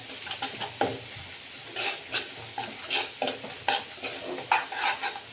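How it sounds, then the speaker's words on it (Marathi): Ground coconut is stirred and fried in a pan with a spoonful or two of oil over low heat, giving a soft sizzle broken by rhythmic scraping strokes of the spoon, close and steady. "याच्यामध्ये वाटलेलं खोबरं टाकायचं आहे जे मी वाटलं होतं मिक्स करून घ्यायचंय"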